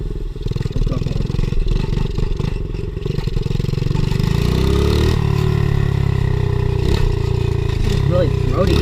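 An unregistered pit bike engine running close and loud, a throaty, rattling motor note that steadies into a constant drone, with a person talking over it.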